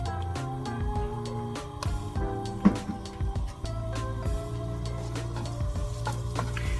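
Ginger, garlic and hot chili sizzle and crackle in hot oil while a utensil stirs and scrapes the pan, with steady close frying noise and scattered sharp clinks.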